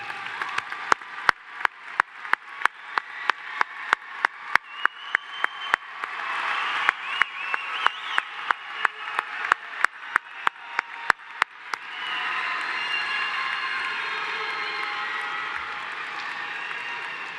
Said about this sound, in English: join me in a round of applause for this special group that is here to celebrate